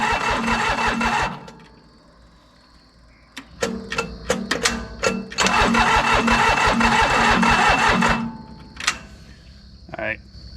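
An old commercial diesel mower engine left sitting in a field for years cranks on a start attempt, two long bursts of loud, labored, rhythmic churning separated by clicks and a pause, without catching.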